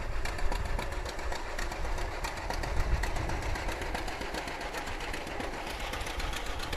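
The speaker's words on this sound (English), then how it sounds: "Following the float is a 1929 John Deere tractor with a wagon." A 1929 John Deere tractor pulling a wagon in a town celebration parade chugs steadily with a rapid, even engine putter, close and continuous throughout with no talk over it.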